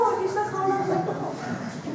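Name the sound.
person imitating a cow mooing in a role-play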